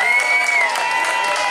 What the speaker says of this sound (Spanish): vamos a darnos un aplauso de nosotros mismos